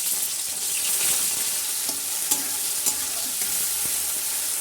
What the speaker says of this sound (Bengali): আমার মা বটবড়িগুলোকে সব ভাজা স্টার্ট করে দিচ্ছে।